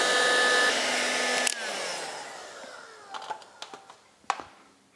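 A steady loud blowing whoosh from a heat-gun paint stripper heating a Weber DCOE carburetor housing, which cuts off and winds down, followed by several small metallic clicks and taps close by.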